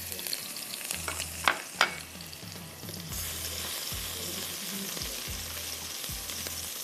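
Ginger and garlic sizzle in hot chili oil for a Chinese beef dish, a steady, close fry with a couple of sharp utensil clacks early on and a low rhythmic hum underneath.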